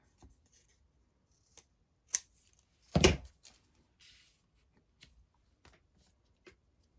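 Scissors snip through paper embellishments in a few sparse, crisp cuts, with one longer louder slicing stroke in the middle and quiet pauses between.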